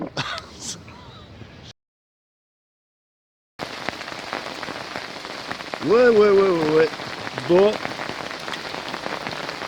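Hail rattles down on a bivouac camp in Normandy in a dense, steady patter, broken by a brief silent gap, while someone speaks a few words over it.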